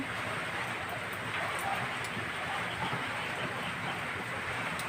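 Steady rain hisses continuously, a dense even wash of sound with occasional faint drips.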